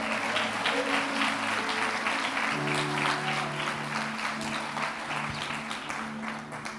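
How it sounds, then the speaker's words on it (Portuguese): A church congregation applauds for Jesus in a Sunday worship service, with steady sustained clapping from many people over held, sustained musical tones throughout the nearly seven seconds. "Você pode aplaudir esse Jesus?"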